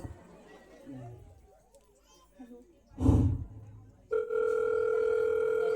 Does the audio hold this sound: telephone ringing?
yes